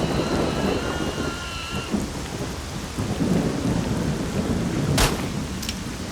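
A thunderstorm in the S.T.A.L.K.E.R. Shadow of Chernobyl video game, with steady heavy rain hissing throughout, rumbling thunder, and a sharp crack near the end.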